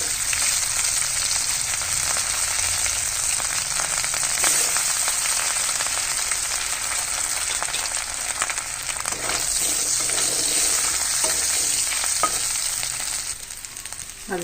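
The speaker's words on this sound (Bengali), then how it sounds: "আলুটা ভেজে নেব" Potatoes frying in hot oil for a Bengali baan fish dish, giving a steady, close, dense sizzle with faint crackles that runs unbroken the whole time, with no voices.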